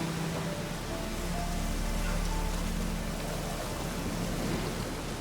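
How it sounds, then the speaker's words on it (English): Steady rain falling in the video game The Witcher III: Wild Hunt, a continuous broadband hiss that holds at an even level throughout, with faint low music tones underneath. "Looks like rain."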